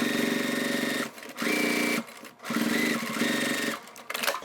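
Sewing machine top stitching through vinyl on a crossbody bag, running in three steady bursts with short pauses between them, loud and close with no voices.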